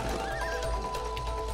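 A horse whinnies briefly in the video game It Takes Two, a high wavering neigh over a low rumbling background.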